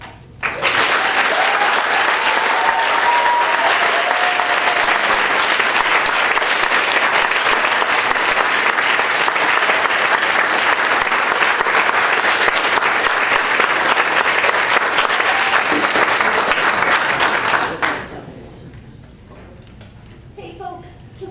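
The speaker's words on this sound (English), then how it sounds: "And it's great that you're applauding" An audience at a school board meeting applauds loudly and continuously for about eighteen seconds, then the clapping stops abruptly, leaving quiet room tone with faint movement.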